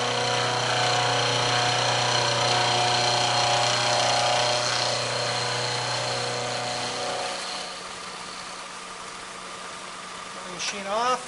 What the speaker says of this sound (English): Turn the milling machine on. Run the cutter through the part.